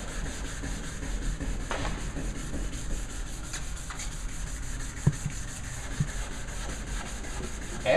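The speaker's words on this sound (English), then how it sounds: "we begin to sand off that top layer" Heavy-grit sandpaper scrubs an oxidized headlight lens with lubricating fluid, a steady continuous rasping rub held at an even level throughout, with a couple of faint knocks partway through.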